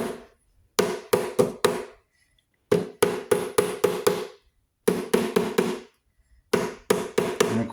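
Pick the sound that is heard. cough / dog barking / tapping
tapping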